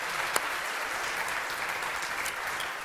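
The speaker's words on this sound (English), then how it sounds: "we should give her another round of applause" Audience applause at an MIT Corporation event, a steady, dense clatter of many hands clapping continuously and evenly throughout, with no voices rising above it.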